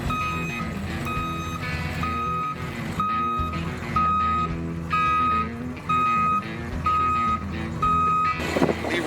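A truck backs up in a wooded dig site with steady, loud reversing beeps repeating at an even pace over engine noise, with no talking.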